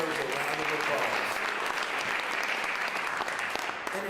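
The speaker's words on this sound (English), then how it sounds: "Yes, that deserves a round of applause." Audience at a Prince George's County, Maryland leaders' event giving a round of applause, dense and steady clapping filling the whole stretch at an even level.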